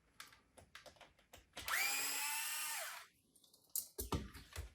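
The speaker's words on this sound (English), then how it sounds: "I'm going to cheat here and use my electric driver." A cordless electric driver backs out bumper screws on a Traxxas TRX-4 RC truck, giving a single steady whirring run of about a second and a half that winds down, with clicks and handling noise around it.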